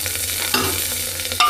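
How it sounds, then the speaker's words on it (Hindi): Spiced masala sizzles loudly in a pan as it is stirred, brief scraping strokes breaking through the close, continuous frying hiss. "ये अब इनको हिला लेता हूँ मैं अच्छी तरह से, ताकि ये मसाला जो है अच्छी तरह से मिक्स हो जाए"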